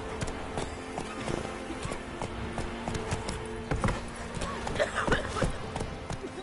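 Horse hooves clip-clop in a quick, uneven rhythm of sharp knocks at moderate distance, with voices and other activity mixed in around them.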